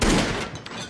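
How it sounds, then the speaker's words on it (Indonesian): A gunshot in the action film A Man Apart lands as a loud, sharp burst at the start and then rings away over about a second. "membuat si Jack semakin kesal lalu menembaknya"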